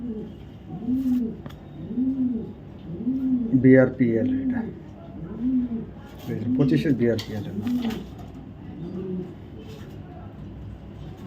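Racing pigeons cooing close by in a regular rhythmic series of rounded coos, with someone talking over part of it and some handling noise.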